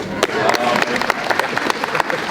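An audience at a high school's 50th anniversary celebration applauds itself, a steady wash of dense, fairly close hand claps lasting the whole stretch without a break.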